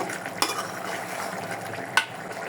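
Beef with new potatoes being stir-fried in a pot over low heat, a soft continuous sizzle broken by two sharp spoon scrapes against the pot.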